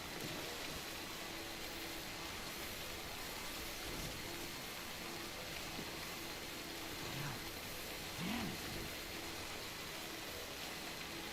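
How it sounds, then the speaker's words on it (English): Heavy rain in the video game Death Stranding, a constant dense hiss of downpour that is even and unbroken, heard alone at a fairly low level. "The rain is really coming down."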